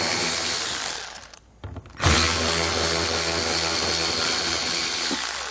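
A power tool with a 5.5 mm socket whirs steadily while backing out fasteners along the front edge of a 2018 Ford Explorer, a loud continuous run after a brief pause, with no talk.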